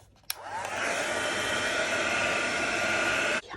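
A hair dryer blows over paper coloured with Distress crayon, switching on after a click and running as a steady, close, loud whoosh for about three seconds before cutting off.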